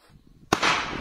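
A New Year firecracker bursts once at night with a sharp, loud crack that trails into a crackling, hissing spray, preceded by faint distant murmuring and background noise.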